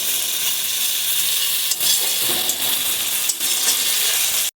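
Chopped tomatoes hit a frying spice mix of ginger, coriander powder, green chili and turmeric with onions, giving a loud continuous hissing sizzle broken by a few sharp stirring clicks and scrapes, with no voices.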